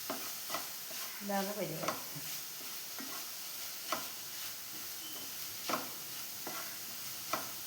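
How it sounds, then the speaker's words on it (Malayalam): A coconut mixture for coconut barfi is stirred in a pan, giving repeated scraping strokes at a steady pace over a soft sizzle, with a brief voice early on. "എല്ലാം കൂടി നല്ലോണം യോജിപ്പിച്ചെടുക്കുക."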